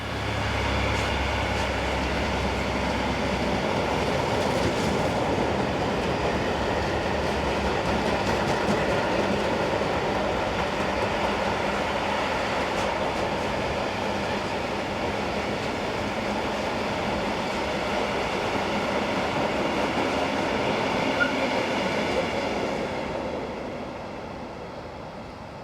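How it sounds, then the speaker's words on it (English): A DB Gravita diesel locomotive hauls a freight train from Duisburg-Mannesmann toward Flandersbach, producing a steady, sustained rolling rumble with clattering wagons that continues for about twenty-five seconds before easing off at the end. "DB's Gravitas Diesel number 265016 heads south hauling train GM 60386 from Duisburg-Mannesmann to Flandersbach."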